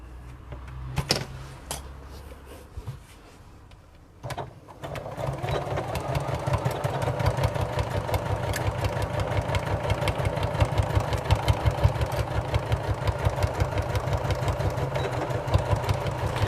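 Sewing machine stitching across a tote bag, a few faint knocks and handling sounds followed by a steady, rapid mechanical needle chatter that runs continuously and fairly loud to the end.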